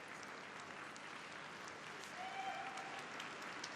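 Steady applause from a crowd at an ice dance rhythm dance event at the European Championships in Kaunas, heard as a continuous, fairly distant wash of clapping that swells slightly toward the end.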